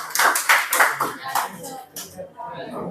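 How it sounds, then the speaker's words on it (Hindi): Students in a Class 10 science classroom clap together in a burst of applause, loud and close at first, then thinning out into scattered claps under ongoing chatter. "ताली तो बजाई दो यार उसके लिए"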